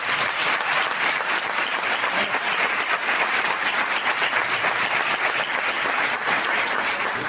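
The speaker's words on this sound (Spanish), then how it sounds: "vamos a dar un fuerte aplauso a los invitados." Loud, steady applause from a live audience welcoming invited guests at an evening event in Spain, a dense unbroken wash of clapping that carries on for the whole stretch without any talking.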